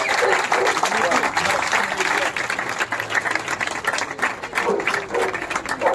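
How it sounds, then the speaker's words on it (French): A crowd applauds at an election night gathering in Lagnieu, dense sustained clapping mixed with voices and cheers throughout, loud and close. "Applaudissez-vous, putain."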